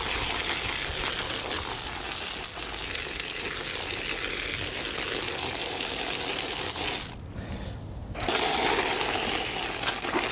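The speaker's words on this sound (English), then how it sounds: "the carbon filter and both the front filter can actually be washed" Water runs steadily over the carbon and front filters of a Winix air purifier as they are washed. A constant rushing hiss breaks off for about a second and then resumes.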